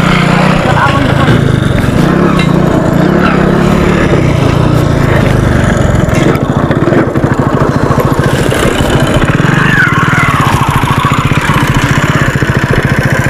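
A motorcycle engine runs loud and close, a steady raspy mechanical drone throughout, with a voice speaking over it.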